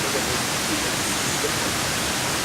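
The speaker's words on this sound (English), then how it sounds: "We're at Waterfall number 2, I think." Erawan Falls in Kanchanaburi sends up a dense, steady roar of falling water that fills the whole scene, loud and unbroken with no voices.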